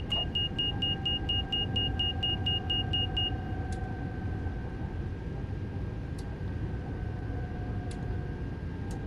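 A TGV in Train Sim World 2 on the LGV Méditerranée runs with a steady low rumble and sustained tones. A rapid train of short warning beeps sounds over the first three seconds, then occasional sharp clicks follow.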